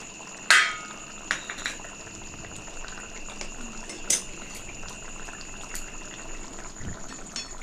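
A vegetarian fish curry, a fishless mustard-style jhol, bubbles at a steady simmer in a pot with a soft continuous boil, plus a few sharp metallic clinks and knocks.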